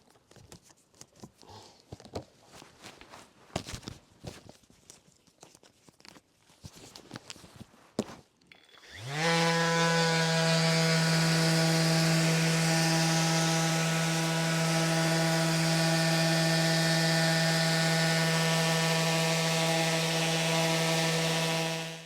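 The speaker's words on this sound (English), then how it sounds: "So I've gone over it all with the random Orbit 80 grit, which is quite aggressive, gets rid of all the bad marks and the clamp marks and the glue squeeze" A random orbit sander with 80 grit paper on an oak sleeper table starts after some quiet shuffling and handling noise, then runs as a loud, steady, close whining drone that holds for over ten seconds.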